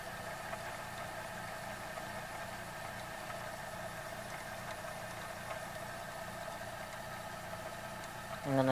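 A mid-1980s Fisher FVH-4000 VCR mechanism running, a steady faint mechanical whir and hum with light rhythmic ticking throughout, then a sudden louder clunk at the very end.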